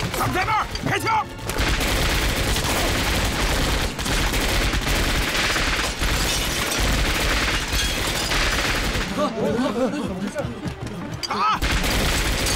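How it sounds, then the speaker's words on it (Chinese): Gunfire in a battle scene from a Chinese anti-Japanese war drama: loud, dense volleys and rapid bursts of shots run almost without pause, with shouting voices mixed in. "他们在那儿，开枪！"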